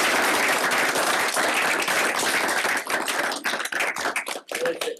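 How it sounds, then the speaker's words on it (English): A crowd at an El Paso MPO board meeting applauds steadily, the clapping thinning into scattered, separate claps as it winds down. "join me in giving her a round of applause for her service"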